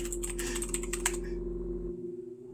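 Rapid typing on a computer keyboard, a quick run of close, crisp key clicks for about a second before stopping, with a faint steady hum underneath.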